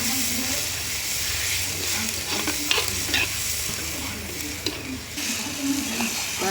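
Onions and tomatoes fry for a fish curry in a pan, with a steady close sizzle and hiss broken by occasional scraping and clinks as a spoon stirs them.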